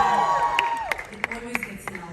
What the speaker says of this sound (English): it always gets the loudest cheer